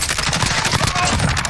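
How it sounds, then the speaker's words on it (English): Rapid, loud bursts of gunfire crackle in a Call of Duty Warzone trios match, close and dense through the whole short moment. "Oh, we're getting sniped from top."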